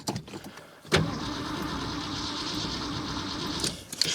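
An old car's starter cranks during a cold start in sub-zero temperatures: a short click, then a steady, rhythmic churning whir for about three seconds before it stops, heard up close without firing.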